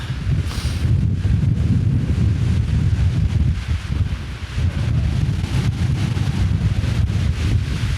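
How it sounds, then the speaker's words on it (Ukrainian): Strong, roaring wind on an Austrian mountain summit buffets the microphone continuously, a loud low rumble with gusting surges and no talking. "Тут треба дуже обережно, бо дуже сильний вітер."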